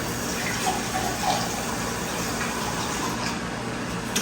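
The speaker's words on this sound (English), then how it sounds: "Might need just a little bit more water." Water pours steadily and loudly from a tap into a cooking pot while baby back ribs are being prepared, a continuous splashing gush with no voices.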